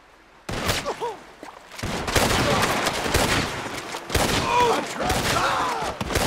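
Gunfire in Red Dead Redemption 2: after a quiet start comes a dense, loud fusillade of repeated shots and booms, with voices shouting and talking over the shooting.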